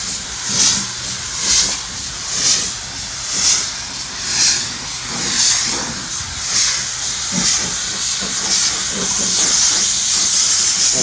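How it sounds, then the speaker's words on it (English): Spray can spraying primer onto a truck's inner fender panel in a workshop, a loud continuous hiss pulsing in repeated bursts roughly every second, with no talking. "I'm just spraying this up because I don't want to pour it out."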